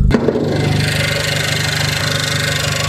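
A Renault Clio 4 RS with a modified 1.6 L turbo engine idles close by, giving a steady low rumble with a faint mechanical rattle. The sound holds even and continuous after a brief initial blip, and no one speaks.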